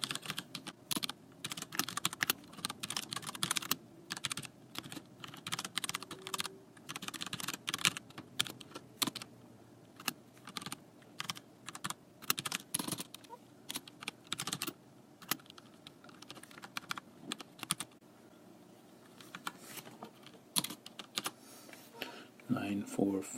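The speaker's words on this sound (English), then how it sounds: "And so now we just type" Steady typing on a computer keyboard, dense rapid key clicks with brief pauses, close to the microphone, while someone talks intermittently over it.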